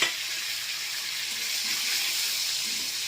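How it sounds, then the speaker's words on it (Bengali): Tomato and capsicum fry in hot ghee in a kadai, producing a continuous, even hiss of sizzling, moderately loud and unbroken by speech. "এই ঘিটার মধ্যে আমি এই টমেটো আর ক্যাপসিকামটা হালকা করে একটু"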